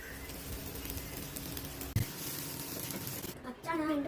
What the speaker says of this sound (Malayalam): അച്ഛ നല്ലോണം ബനാന വാട്ടി